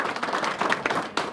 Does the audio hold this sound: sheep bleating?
no